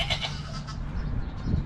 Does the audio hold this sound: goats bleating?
yes